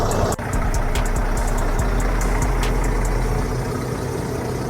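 A semi truck's heavy diesel engine idles close by, a steady low rumble with rhythmic ticking on top, continuous and loud with no talking.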